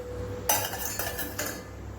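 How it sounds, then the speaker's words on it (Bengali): A utensil beating oil and milk together in a bowl for chocolate cake batter, with three quick clinking strokes against the bowl's side, close and clear. "1 কাপ দেবো সাদা তেল, 1 কাপ দুধ, এটাকে ভালো করে ফেটিয়ে নিতে হবে।"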